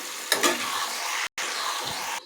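Mutton goes into a pan of half-cooked spice paste, setting off a loud steady sizzle right up close, with a burst of crackling as the meat lands and a short gap midway.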